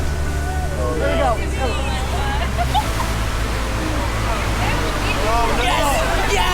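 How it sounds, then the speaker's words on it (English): Boat ride at Busch Gardens Tampa passing under a waterfall, with a continuous roaring rush of falling water and spray while excited riders shout and chatter throughout. "There's a waterfall no, we're going under."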